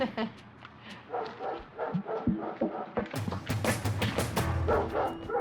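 A dog shut inside a car yips and barks in quick bursts, moderately near, with people talking over and around the barking.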